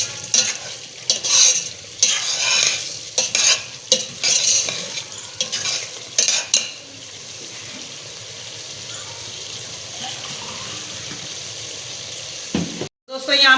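Masala and chicken frying over high heat in a pot and being stirred, with a steady sizzle and repeated scraping spoon strokes that fade into a softer bubbling fry.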